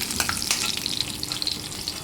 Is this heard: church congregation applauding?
no